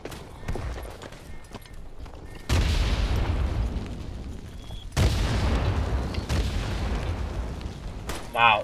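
Gunfire rings out in the WWI shooter Tannenberg: two loud booming shots with rolling rumbling tails, plus fainter distant cracks and thuds, while a voice speaks in the background.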